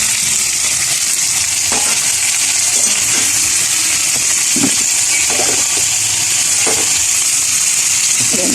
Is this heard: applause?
no